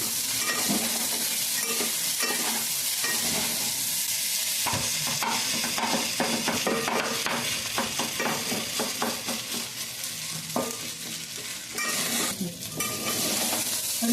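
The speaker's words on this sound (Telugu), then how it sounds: "ఇప్పుడైతే చూడండి అది అన్నం వేసిన తర్వాత చక్కగా ఆ విధంగా అయితే బాగా కలపాలండి" Egg fried rice is stirred in a hot pan over high heat, a steady close sizzle and frying hiss with repeated scraping and clinking strokes of a utensil against the metal, no talking.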